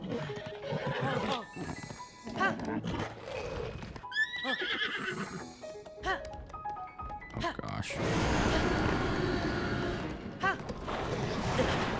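Horse neighing loudly in Zelda: Tears of the Kingdom, a couple of rising whinnies in the middle amid game sounds and noisy clatter, with someone talking over parts of it.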